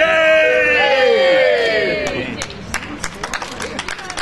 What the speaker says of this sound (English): Big cheer, yeah!